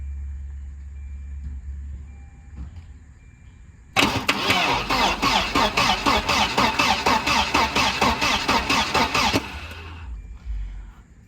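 A 1992 Volvo 940 wagon engine cranks steadily for several seconds with a rapid, rhythmic starter chug, close by, then stops without catching into a run.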